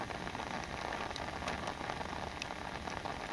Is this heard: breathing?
no